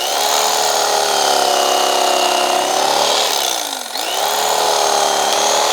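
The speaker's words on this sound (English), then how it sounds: "So let's cut some summer sausage with it." A Hamilton Beach 74250R electric knife slices summer sausage on a cutting board, a loud, steady motor whine with reciprocating blade buzz that dips briefly in pitch as the blade bears down mid-cut, then recovers.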